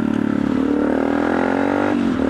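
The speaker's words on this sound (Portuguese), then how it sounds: "eu abaixei o giro, eu baixei a lenta da moto" A Yamaha Ténéré 250 motorcycle idles at a lowered idle speed, giving a steady, close, loud engine putter with a slight dip in pitch near the end and no talking.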